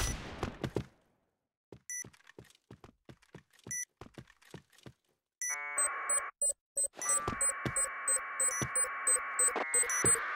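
A planted bomb in a video game beeps in sharp, regularly spaced electronic blips, then gives way to a steady, loud buzzing alarm tone layered with further beeps.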